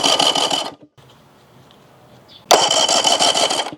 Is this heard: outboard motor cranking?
yes